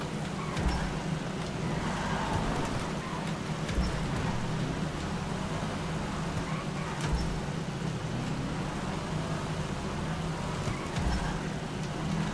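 Rain falls during a street race in a racing game, a dense steady hiss layered over a low continuous engine and road drone with occasional thumps, loud and unbroken throughout.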